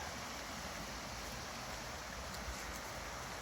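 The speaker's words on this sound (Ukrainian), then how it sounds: "звук річки" Steady broadband rushing of flowing water, continuous and even throughout, like a river running nearby with no voices, in the Carpathian mountains in the morning.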